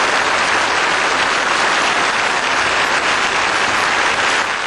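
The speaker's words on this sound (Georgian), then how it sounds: "პიაცაზე შეკრებილები პლასიდო დომინგოს ოვაციებით შეეგებნენ." A crowd gathered on the piazza in Batumi gives Plácido Domingo an ovation, a loud, even roar of applause from many people that continues unbroken, with no voices on top.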